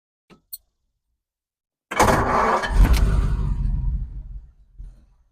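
A 1953 Ford Crestline Sunliner flathead engine cranks and catches after two faint clicks, then settles into a smooth, quiet, steady idle close by.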